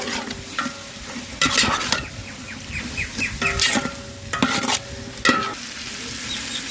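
Chicken is stirred into a sizzling masala for dum biryani, with repeated scraping spoon strokes over steady frying crackle and a few bird-like squeaks from the utensil.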